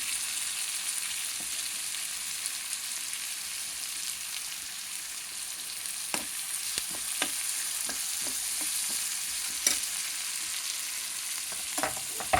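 Tomatoes fry and get stirred in a pan, a soft steady sizzle broken by scattered spoon scrapes and clicks that grow busier toward the end, with no talking.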